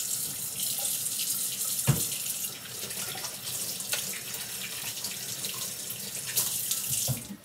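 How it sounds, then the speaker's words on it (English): Tap water runs steadily into a sink as hands are washed beneath it, a continuous close hiss of flowing water with a couple of brief knocks and splashes. "I'm going to wash my hands."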